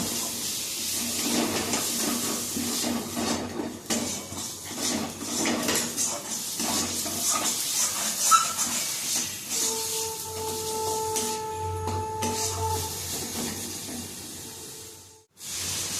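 Spice masala with ground cumin and chili powder sautés in a pan for an elephant-foot yam and prawn dish, with a steady sizzling hiss and frequent metal spatula scrapes and clinks, close and continuous.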